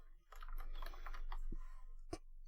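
Soft, quick keystrokes on a computer keyboard, a short irregular burst of light taps followed by a single sharper click, quiet and close against a low hum.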